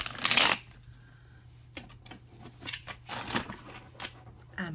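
A deck of Tarot of the Human Experience cards is shuffled by hand: a loud opening riffle, then a run of soft crackling card slides and taps, close up and with no talking.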